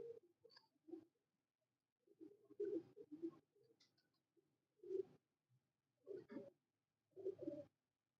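Pigeons cooing in bushes, a series of soft, low, rounded coos repeated in irregular bursts with quiet gaps between, fairly close and alone with no talking.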